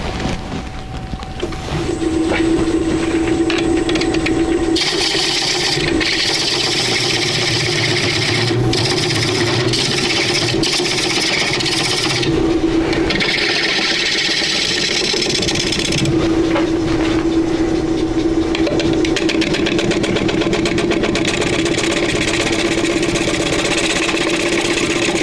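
A gouge cutting into a log-to-bowl blank spinning on a wood lathe, a continuous loud rasping scrape over the steady hum of the motor, swelling and easing as the tool is pressed and lifted.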